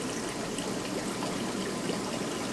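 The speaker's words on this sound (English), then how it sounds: "can see the water draining into that tank" Water from an aquarium quarantine system drains into a tank from about 25 separate tanks, giving a steady, fairly faint trickling and splashing wash with no voices.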